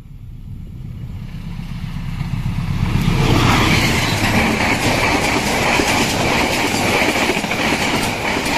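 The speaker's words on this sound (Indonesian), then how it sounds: "Ada kereta yang akan melintas lagi tuh." A train approaches and passes close by on a railway line near Cirebon, Indonesia, swelling from a low rumble into a loud, sustained roar with rhythmic clickety-clack of wheels and faint wheel squeal, no voices.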